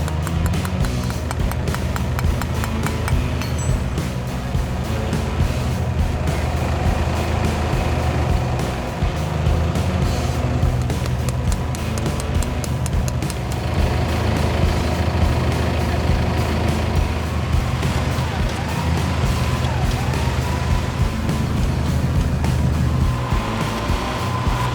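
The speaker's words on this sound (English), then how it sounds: "fingers crossed we get this camera car up this climb" A 4WD camera car's engine hauls up the Spanish Steps track near Lithgow at night, with a winch helping it climb, making a loud, steady, unbroken drone for the whole stretch and no one talking.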